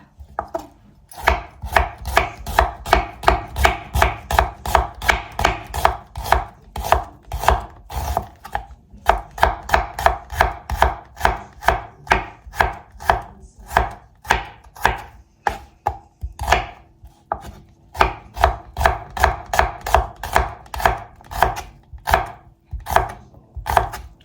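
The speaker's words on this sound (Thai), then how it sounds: "ก็เริ่มหั่นหอมให้บางที่สุดเลยค่ะ" A knife taps rapidly and evenly on a cutting board, thinly slicing shallots, dozens of crisp close chops in a steady rhythm with brief pauses.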